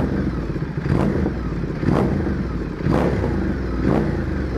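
A Ducati XDiavel with a titanium Arrow exhaust revs to about 4000 rpm, a deep close engine roar pulsing with four regular blips about a second apart.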